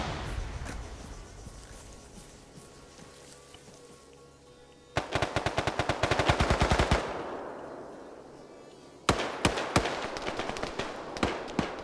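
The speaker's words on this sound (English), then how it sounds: "Really the Mark 14 versus SKS fight." Rapid bursts of rifle fire from a Mark 14 and an SKS in a multiplayer military shooter game, with dense overlapping shots, a brief lull, then a fresh volley of sharp, loud cracks near the end.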